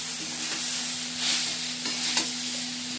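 Sugar and salt being stirred into chira pulao (flattened rice pilaf) in a pan, with a steady close scraping and light sizzle and a few sharper spoon knocks against the pan, no voices.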